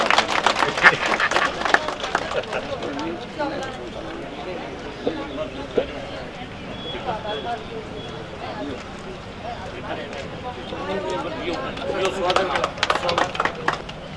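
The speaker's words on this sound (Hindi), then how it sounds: "जोरदार तालियों से स्वागत होना चाहिए" Clapping from a crowd of guests welcoming honorees at a ceremony rises and falls for the whole stretch, dense at the start and again near the end, with voices heard underneath.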